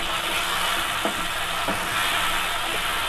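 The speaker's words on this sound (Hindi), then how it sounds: "अच्छी तरह से भून लेंगे" Tinda, an Indian round gourd, is sautéed with chana dal in a pan, giving a steady broadband sizzle with a few soft stirring scrapes and no talk.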